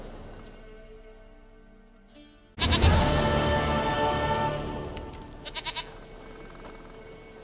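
A goat in The Witcher 3 video game bleats in a burst of loud, wavering calls over a game soundscape, followed by a few shorter pulsing bleats, with no talking.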